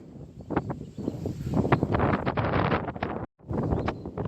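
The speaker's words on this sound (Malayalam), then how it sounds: "നല്ല കാറ്റുണ്ട്" Strong wind blowing across a hillside gusts and buffets the microphone in loud, uneven bursts, with a brief drop near the end, no talking.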